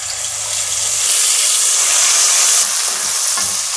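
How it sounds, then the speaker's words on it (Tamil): Mustard seeds and a ground paste frying in sesame oil give a loud, steady sizzle up close, with the hiss swelling after the first second and holding strong to the end. "ஒரு 1/2 ஸ்பூன் கடுகு போடலாம். கடுகு வெடிச்சுட்டு இந்த அரைச்ச விழுதை இதில் சேர்த்துடலாம்."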